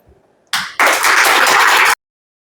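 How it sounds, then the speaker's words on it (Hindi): A loud burst of audience applause at a felicitation ceremony welcoming newly selected students, starting with a short clap, then a dense roar of many hands for over a second before stopping abruptly. "इन बच्चों का जोरदार तालियों के साथ में स्वागत करेंगे"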